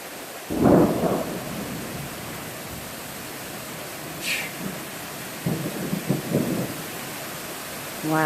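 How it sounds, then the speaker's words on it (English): Heavy thunderstorm rain near the Appalachian Mountains, a steady dense hiss throughout, broken by a few louder rumbling bursts. "Wow, sheets of rain."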